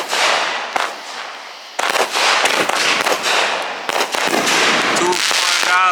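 Fourth of July firecrackers of the triple threat kind burst in loud, rapid, overlapping volleys of pops and bangs that keep up for several seconds, with short lulls between them.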